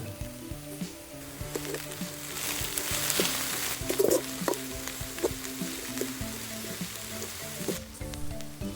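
Onions fry with chili, coriander and turmeric powder for fish podimas, giving a continuous loud sizzle close by. Repeated scraping stirs and clatters of a spoon against the pan run over it, with no talking.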